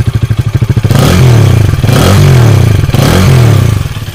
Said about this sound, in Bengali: This is the engine sound.